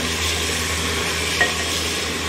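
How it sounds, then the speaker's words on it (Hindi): Garlic and red chili are stirred in a hot pan, producing a steady sizzle over a low hum with one faint utensil clink near the end. "Garlic, red chilli, mix it well."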